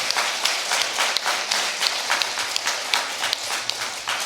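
Sustained applause from a church congregation at a 35th anniversary worship service, dense steady clapping filling the room with sharper individual claps standing out.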